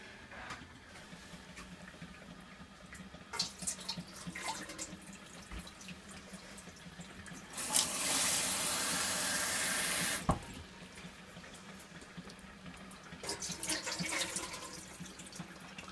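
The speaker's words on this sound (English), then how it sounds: "So I'm going to put about one and a half to two cups of water in the bottom of my Instant Pot" Water runs steadily from a tap for a couple of seconds to fill a container for an Instant Pot pressure cooker, amid quieter kitchen clatter and handling before and after, close and moderately loud.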